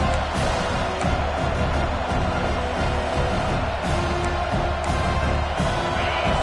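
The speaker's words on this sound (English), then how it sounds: "And the crowd coming to life here, trying to help this defense down in the red zone" Steady, dense roar of a big crowd at an American football stadium as the defense plays in the red zone, a constant wash of noise with faint broadcast commentary underneath.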